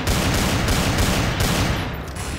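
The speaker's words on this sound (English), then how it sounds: "They're shooting at me." Counter-Strike: Source gunfire rattles in a dense, loud, continuous volley of rapid shots that fills the whole moment, with no talking over it.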